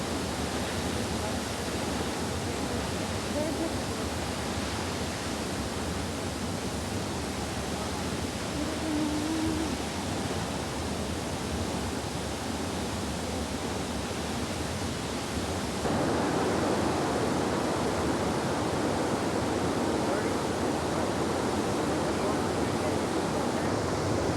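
A waterfall near Supai in the Grand Canyon roars as a steady, broad rush of falling water heard close, growing louder and fuller partway through, with no clear speech over it.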